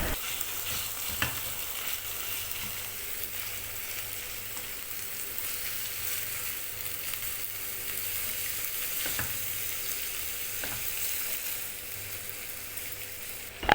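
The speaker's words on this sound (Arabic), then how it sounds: "وأضيف عليهم بصلة مقطعة قطع صغيرة مكعبات صغيرة، وأشوحها مع معلقة سمنة مع اللحمة" Minced meat and small-diced onion sautéing in ghee make a constant close sizzle, with occasional scraping knocks from stirring and no talking.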